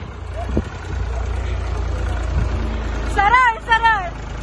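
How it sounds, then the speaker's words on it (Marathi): A tractor's engine runs as a steady low drone while being driven outdoors, loud and close throughout, with voices chattering over it toward the end. "अंकित चालवतोय ट्रॅक्टर"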